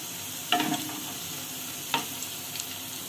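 Bottle gourd kofta sizzle in hot oil, a soft steady frying hiss with a few brief scrapes and clinks as a spoon turns them, no voices.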